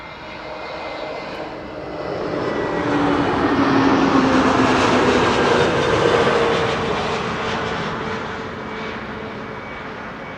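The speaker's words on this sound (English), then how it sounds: "EasyJet arriving from Lickety Split is first to arrive," An EasyJet Airbus A320neo landing at Schiphol, a broad roar of jet engines that swells from quiet to a loud peak mid-pass and then slowly fades, steady and sustained with no voices.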